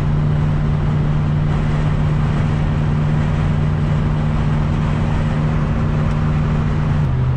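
A 1992 Nissan car cruising on a motorway at half throttle: a loud, steady engine drone and road rumble heard from inside the cabin, unchanging throughout with a slight dip near the end.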